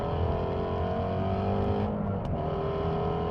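A 2016 Ford Mustang GT350R engine revs hard and steadily while being short shifted around 6,000 rpm, a loud, continuous close-up roar with a brief dip partway through.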